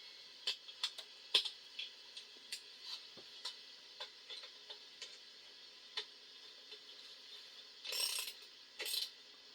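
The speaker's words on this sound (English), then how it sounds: "now for the ratchet" A ratchet wrench clicks in short irregular bursts while working on the front wheel bearing of a 1995 Pontiac Grand Prix, with sharp metallic ticks and a couple of longer rapid runs near the end, close and otherwise quiet.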